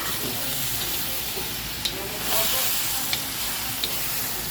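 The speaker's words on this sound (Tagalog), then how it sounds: "makikita niyo mga boss yung toyo ay nagigisa mga boss" Soy sauce sautés in a hot pan for duck adobo in coconut milk, a dense, close, steady sizzle with a few faint clicks.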